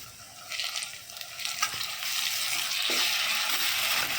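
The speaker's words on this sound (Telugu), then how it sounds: "ఇప్పుడు ఒక టూ టేబుల్ స్పూన్స్ ఆఫ్ అల్లం వెల్లుల్లి పేస్ట్ యాడ్ చేసుకుందాం" Ginger garlic paste frying with onions in a pan for chicken curry, a steady sizzle with stirring scrapes that grows slightly louder over the clip, with no talk.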